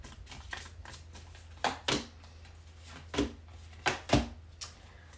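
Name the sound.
shuffling and drawing tarot cards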